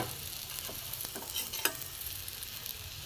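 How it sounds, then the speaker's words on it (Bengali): Bread slices coated in flour batter fry in a little oil, giving a faint, steady hiss close by with a few light clicks and one sharper tap of a utensil; no one speaks. "হালকা তেলে করে নেবো এটা হয়ে গেছে আমি নামিয়ে নেবো ধারার মধ্যে রাখবো এক সাইডে এটা ভালো করে ভেজে নিই"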